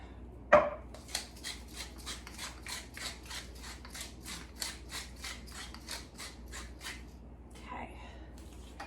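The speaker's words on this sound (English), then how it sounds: "I'm gonna go ahead and season the other side of this chuck roast with the salt and pepper" A pepper mill grinds pepper onto a chuck roast in a rapid, steady run of dry crunching twists, close and fairly quiet, with a sharp knock near the start.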